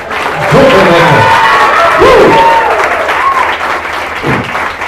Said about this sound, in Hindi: जितने लोग अच्छा लग रहा है जोर से ताली बजाकर चिल्लाकर जो कर रहे हैं